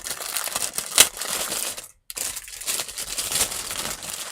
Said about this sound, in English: When you hear me rustling, I am literally rustling to get into little packages